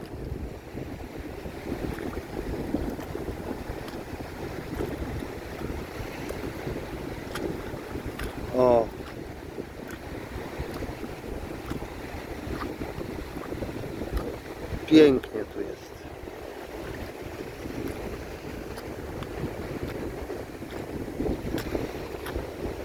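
Sea waves wash steadily onto a beach in the Philippines as a constant broadband roar, mixed with wind buffeting the microphone. Someone speaks briefly over it, and a couple of short, louder bumps stand out.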